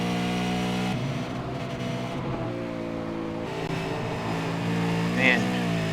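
A V8 Supercar engine howls at full throttle up through Eau Rouge at Spa in a night race on cold, low-grip tyres, its steady high-revving note climbing in pitch as the car presses on, loud and continuous throughout.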